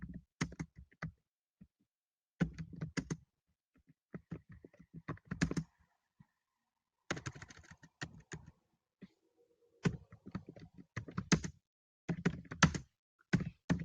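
Typing on a computer keyboard in irregular bursts of crisp key clicks and occasional heavier thunks, separated by short pauses, close and fairly quiet with no talking.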